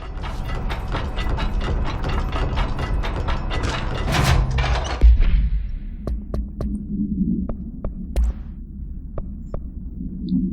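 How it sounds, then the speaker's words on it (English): A door-closing mechanism in the video game Control: a rapid run of mechanical ratcheting clicks builds to a heavy thud, followed by scattered sharp clicks over a low steady hum. "What's this do? Closes the door?"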